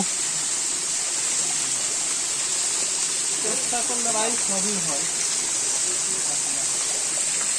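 Kalajura waterfall in the Sylhet hills pours with a constant, loud, dense roar, while a voice briefly speaks or calls out over it partway through.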